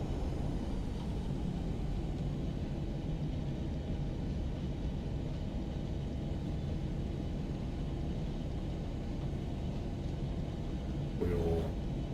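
Boeing 737 engines roaring in reverse thrust on landing in the Prepar3d flight simulator, a steady dense rumble held for the whole stretch with a brief sharp noise near the end.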